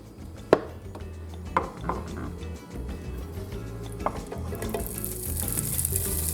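Oil heating in a hot skillet before pork goes in: a low background sizzle with a few sharp clinks of utensils, building to a stronger hiss near the end, with no talk over it.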